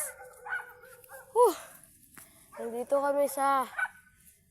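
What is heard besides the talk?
big dog barking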